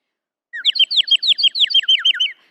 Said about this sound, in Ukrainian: Ну, ось візьмемо, наприклад, пташечку, яка співає красиво.